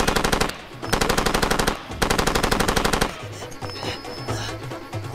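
A mounted machine gun fires long, rapid bursts in the video game Far Cry 2, loud and close, with brief gaps between volleys and quieter scattered shots and impacts afterward.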